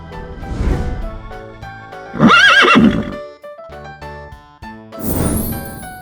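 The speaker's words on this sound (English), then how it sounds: "Horse." A horse whinnies loudly in a long, wavering neigh, set among soft farmyard sounds with hoof clip-clops and light jingling before and after.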